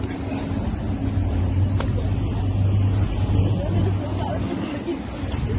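Motorboat engine rumbling steadily on a Venice canal, a continuous low drone close by with a murmur of crowd chatter and wind mixed in.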